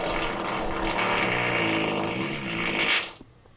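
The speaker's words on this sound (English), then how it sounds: "trying his hardest to get a fart out" A man strains to push out a long, loud, sputtering fart that rumbles steadily for about three seconds before cutting off abruptly, close to the microphone.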